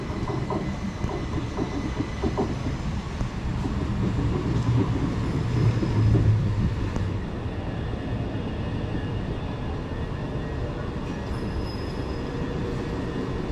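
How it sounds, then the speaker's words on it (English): Southeastern Class 375 electric train 375 926 pulling into a station, a rumbling approach with wheel clatter and brief high squeals from the brakes, fairly close and without talk. "It's 375 926 pulling in."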